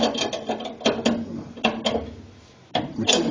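Nuts are tightened on a leaf spring assist with a ratchet, a series of quick metallic clicking strokes in short bursts with a brief pause, close by and moderately loud.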